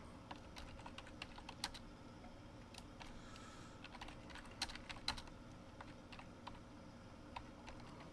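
Steady typing on a computer keyboard while someone enters and formats a paper title about COVID health outcomes; quick, irregular key clicks run throughout, soft and close, with a few louder taps and no voices.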